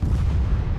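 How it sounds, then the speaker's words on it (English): A grenade explodes in the video game The Last Hope: Trump VS Mafia. It is a single short, heavy, low boom that rumbles briefly and stands alone. "Gonna try grenade just for fun."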